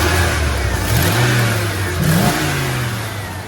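Ford 302 V8 in a truck, with a slight exhaust leak, idles roughly and is revved twice, the engine note rising and falling, close and loud with a steady rumble between revs.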